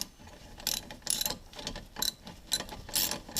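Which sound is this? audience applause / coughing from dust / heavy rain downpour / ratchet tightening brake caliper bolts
ratchet tightening brake caliper bolts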